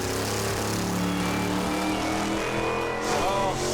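A drag racing car makes a pass at Area 51 Dragway in New Mexico, its loud sustained engine roar rising in pitch as it accelerates, heard from a distance with a voice speaking over it.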